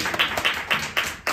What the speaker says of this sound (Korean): 여러분 박수로 받아주시기 바랍니다